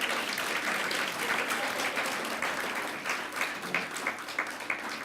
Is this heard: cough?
no